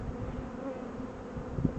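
Honeybees in an opened spring hive give off a low, steady buzzing hum, fairly faint and continuous, with a slight swell near the end.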